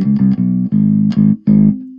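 A Squier Affinity PJ bass played through an amp with a flat EQ, sounding a handful of plucked notes in an uneven rhythm, close and fairly loud, with the last note ringing out alone.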